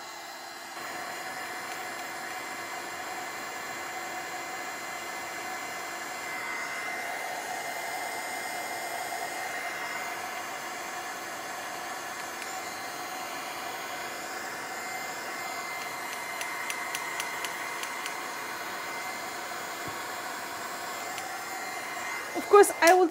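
A hair dryer blows steadily over paint on a wooden box, making a constant whirring rush with a faint whine that holds for the whole stretch, briefly shifting pitch midway.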